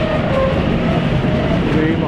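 BoxXpress container freight train winding into a station, a steady low rumble with faint rail squeal, continuous and fairly close throughout.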